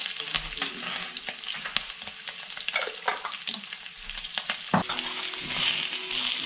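Pork adobo ingredients sizzle and spatter in a pan with a splash of extra oil, a crackling close hiss broken by scraping stirs and a few sharp knocks, with no voice.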